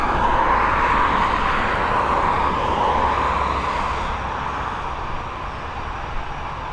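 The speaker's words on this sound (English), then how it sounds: "we're heading to Rome now with this Airbus A320" An Airbus A320, about 18 years old, takes off from runway 10R at Dublin Airport with a broad, continuous jet engine roar that holds strong and then eases slightly, heard from outside at a distance.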